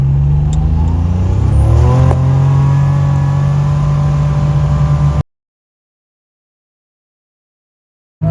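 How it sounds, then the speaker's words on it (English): Buick Grand National car accelerating on a short pull, its engine droning loud and close, pitch rising through a gear change before holding steady and then cutting out abruptly into silence. "Guys, we're making a little quick roll here in the Grand National."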